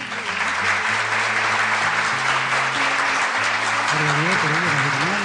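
A church congregation applauding loudly and continuously, with sustained clapping filling the room while organ or keyboard notes play underneath.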